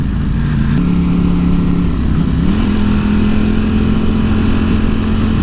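A 2018 Ducati Panigale V4S engine dropping a gear, its droning revs dipping then settling into a steady mid-pitched hum, close and loud with no talk.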